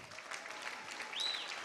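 Audience at a charity auction dinner breaks into brief, moderately loud applause, a dense patter of clapping lasting under two seconds.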